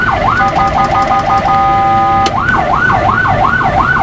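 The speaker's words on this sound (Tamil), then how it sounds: "அதுக்காக தான் சைரன் சவுண்டு கொடுத்துருக்காங்க" A wailing emergency siren sweeps up and down repeatedly, switching briefly to a faster yelp pattern before returning to the slow wail, loud and close.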